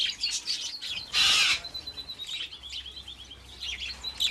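Wild budgerigars in the Australian bush give high, rapid chirping calls, with one loud burst of chatter among steady twittering from a nearby flock.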